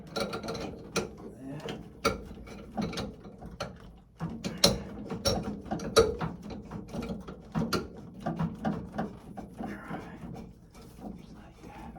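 A ratchet turns a nut on the 3-way valve of a Laars Mascott wall-hung combi boiler, giving a steady run of close, quick clicks with brief pauses, under occasional speech.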